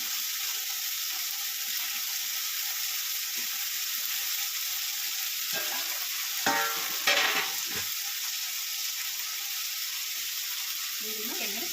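Capsicum frying in oil, a constant bright sizzle throughout, with a brief burst of stirring and clatter midway and faint murmuring voices in the background.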